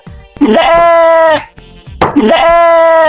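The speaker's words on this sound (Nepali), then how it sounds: "म अहिले यहाँ एउटा खसी पार्दैछु" A goat held down for castration gives two loud, close bleats, each drawn out and wavering, with a short pause between them.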